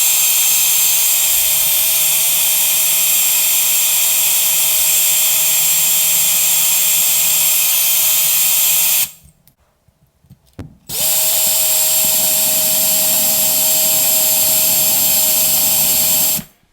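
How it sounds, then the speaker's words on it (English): Power drill whining at a high, steady pitch, boring into the hard flint mechanism of a Ronson GEM automatic petrol lighter; loud and close, running about nine seconds, halting briefly, then starting again at the same speed. "Hit it with the power drill again."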